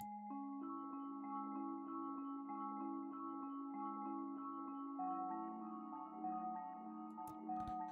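A filtered, half-speed sample chopped into a looping arpeggio in FL Studio, with steady repeating synth-like notes that shift pitch partway through, playing quietly and alone.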